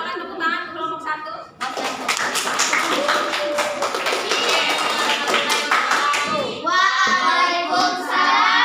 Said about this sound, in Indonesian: Silakan tepuk tangan ke kelompok 1